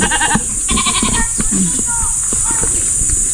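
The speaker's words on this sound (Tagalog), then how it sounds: "Ayan, ang daming kambing, guys." Goats bleat repeatedly in short wavering calls over a busy outdoor background on a mountaintop, with people talking nearby.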